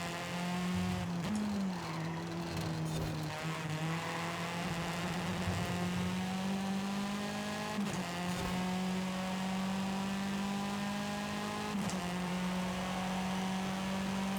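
Race car engine in Forza Horizon 5 holds a steady sustained drone, rising and dipping through gear changes with brief tire squeals, loud and close throughout with no talking.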